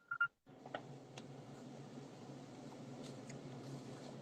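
Short electronic phone tone at the very start, a brief two-part beep, followed by steady low background noise and faint ticks with no clear speech.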